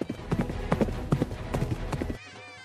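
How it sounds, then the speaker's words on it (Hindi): Horse hooves clip-clop rapidly as the horse runs off carrying a groom, an uneven flurry of close hoofbeats that stops abruptly near the end, leaving only faint ringing noise. "घोड़ा दूल्हा लेके भाग गया।"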